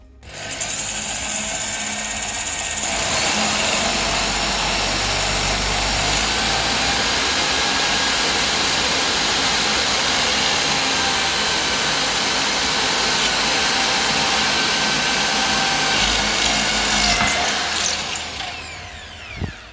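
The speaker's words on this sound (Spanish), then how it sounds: "El taladro no debería resbalarse." A power drill boring a hole into a wall while mounting an IKEA VOXNAN roll holder; a loud, continuous high whirring drone held steadily for most of the time, then winding down near the end.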